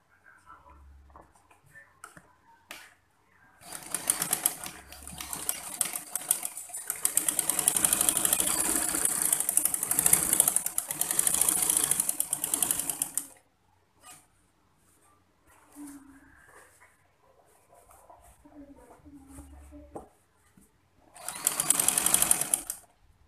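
A sewing machine lock-stitches at a chalk line on a pleated pencil skirt, buzzing loudly for a long stretch and again in a short final burst, with quiet gaps and low speech in between.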